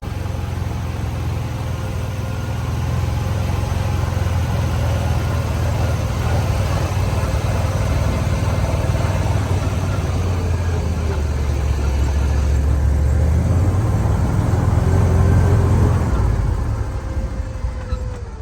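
Vehicle driving through a forest, a steady low engine rumble that rises and swells in loudness midway, with a person talking over it.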